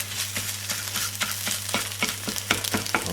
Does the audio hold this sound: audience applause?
no